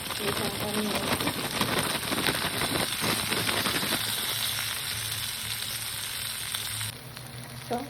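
Corn kernels frying in a pan, a steady dense sizzle that carries on throughout, close and fairly loud, with a stirring texture and a slight drop in the last second.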